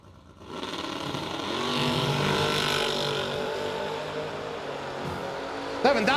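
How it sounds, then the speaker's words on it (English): Drag race cars, a 1966 Chevy II against a Chevy Camaro, launch off the line at a drag strip, engines roaring loud and sustained as they pull away, with a sharp burst near the end. "Goes up against Kyle Anderson, he is dialed in at 660 in that Chevy Camaro"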